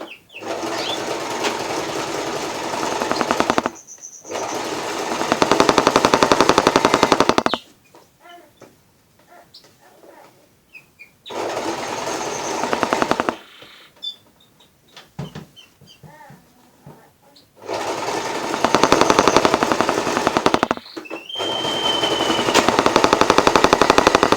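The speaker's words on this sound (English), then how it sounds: "I sew back and forth over the same spot a few times to make sure that the tag stays on." A sewing machine stitches a seam on a fabric cutlery pouch in loud, close bursts of rapid rattling, with several long runs separated by quieter gaps filled with handling noises.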